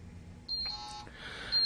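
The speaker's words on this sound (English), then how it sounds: "The GX-2001 will sound an alarm and the unit will vibrate" A GX-2001 handheld gas detector sounds its alarm as short, high electronic beeps, first a sustained tone and then another burst a second later, close and clear with faint handling noise.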